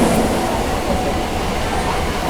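A nearly empty Mumbai suburban train runs steadily, with a continuous loud rumble and rattle of the carriage throughout and no clear voices.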